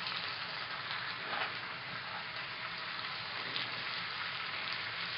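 A pot of cow foot boils on the stove for Guyanese-style soup, giving a steady, soft bubbling hiss that stays even throughout with no voices.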